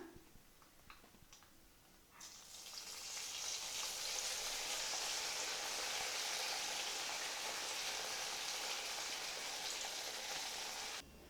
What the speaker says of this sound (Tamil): இந்த மாதிரி நம்ம கட் பண்ணி வச்சுக்கக்கூடிய பீஸ் எல்லா இட்லியுமே இப்போ எண்ணெயில் பொரித்து எடுத்துடலாம்